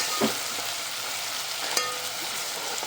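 Ginger and garlic frying in a pan for prawn biryani, with a steady close sizzle that continues throughout, broken by a couple of brief sharper crackles or stirring taps.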